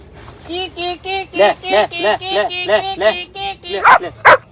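A dog barking in a quick series of about a dozen loud, close barks, ending with a couple of sharper yelps.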